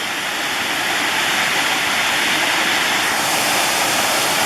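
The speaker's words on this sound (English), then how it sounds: "It's a very noisy waterfalls." Cucumber Falls at Ohiopyle pours in a loud, steady roar of rushing water, close and unbroken, with no voices over it.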